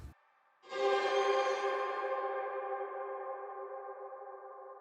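Electric guitar chord through a shimmer reverb pedal on its luster setting, struck once after a brief silence, then ringing out in a long, smooth wash that slowly fades without extra sparkle on top.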